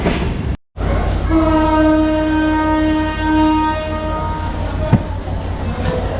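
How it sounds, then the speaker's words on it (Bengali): The Chilahati Express sounds one long, loud horn blast as it departs Birampur station, over a heavy rolling rumble of the moving train, with a sharp clank near the end. "দুই মিনিটের যাত্রা বিরতির পরে আমাদের ট্রেনটি আবার বিরামপুর স্টেশন থেকে ছেড়ে যাচ্ছে"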